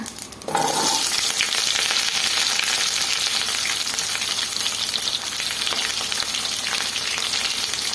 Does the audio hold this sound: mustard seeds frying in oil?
yes